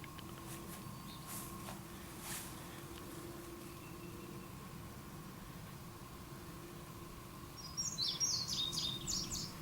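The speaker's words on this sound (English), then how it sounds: "All right, bird, you can stop right now." Near the end, a bird lets out a brief burst of chirps over faint steady background hiss and a low hum.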